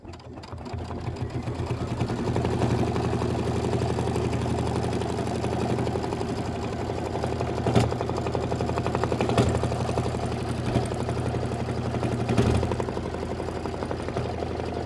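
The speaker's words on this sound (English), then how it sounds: "Five minutes of stitching to do this." A sewing machine stitches an autumn-themed quilt block with a steady, continuous mechanical whir and hum, close and fairly loud, holding evenly throughout with a few brief clicks and knocks.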